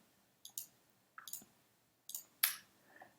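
Computer mouse clicks while editing a web page layout: three quiet, sharp click pairs spaced about a second apart, then a brighter click with a faint trailing rustle, close up with no talking.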